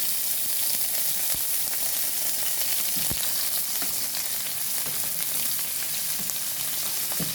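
Garlic sizzles steadily in a small amount of oil, a dense continuous crackle with scattered pops and light clicks of stirring, close and even throughout.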